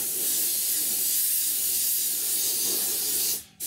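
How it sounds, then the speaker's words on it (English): Airbrush sprays paint at 35 psi, misting a layer onto an Academy F-16I Sufa scale model kit in a steady close hiss that cuts off abruptly near the end. "we're just literally misting over a layer. We're still shooting 35 psi."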